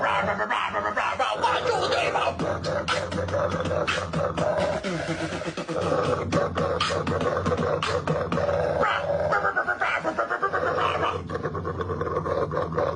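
A dog growls and snarls in rapid rhythmic bursts like beatboxing, near and fairly loud throughout, with dense, choppy texture and no clear pauses.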